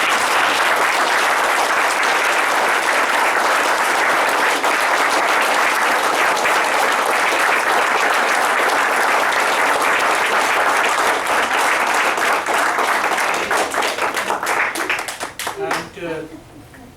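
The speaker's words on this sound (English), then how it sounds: "one more round of applause." Loud audience applause at a book release event, a sustained dense round of clapping that thins into a few scattered individual claps and fades near the end.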